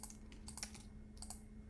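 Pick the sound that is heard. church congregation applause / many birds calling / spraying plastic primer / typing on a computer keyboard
typing on a computer keyboard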